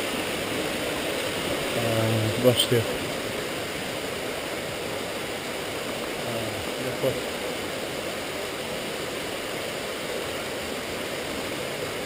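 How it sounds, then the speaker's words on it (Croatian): Small waterfall in the Škubra river canyon, a steady rushing wash of falling water heard at moderate distance, continuous throughout, with a brief spoken remark and a few footsteps or knocks over it. "Gore imamo i mali vodopad."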